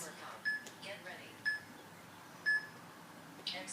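A workout interval timer gives four short, high electronic beeps spaced evenly one second apart, like a countdown, while a person talks between them.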